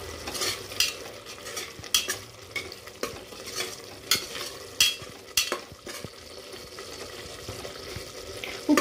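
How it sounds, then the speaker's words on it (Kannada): A pan of mushroom biryani masala is stirred and blended, giving close, irregular scraping and rustling strokes over a faint sizzle, with no talking. "ಚೆನ್ನಾಗಿ ಅದನ್ನು ತಿರುಗಿಸ್ಬೇಕು ಬ್ಲೆಂಡ್ ಮಾಡಿ."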